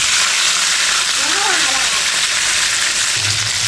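Surma fish fries in hot oil in a pan, giving a loud, steady, dense sizzle from start to end, with a faint voice briefly in the background.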